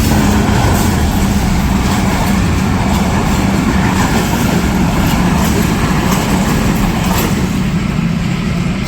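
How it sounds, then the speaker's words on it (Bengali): A small train passing close by a rail crossing in a Bangladeshi village, a loud steady rumble and clatter that holds throughout with no talk over it. "ট্রেন আসতেছে, আর আস্তে আস্তে যে ট্রেন এখন চলে যাবে।"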